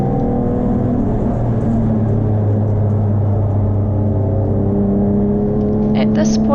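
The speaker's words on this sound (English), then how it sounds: "At this point, the pesky Fiat continues to fill Kel's rear inside view mirrors" Racing cars on a circuit at a January event in Taupo, including a Fiat and a BMW M3 E36, give a steady loud engine drone with shifting whining tones that holds throughout, and an announcer talks over it.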